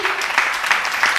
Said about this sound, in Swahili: Patia Bwana Yesu sadaka nzuri ya makofi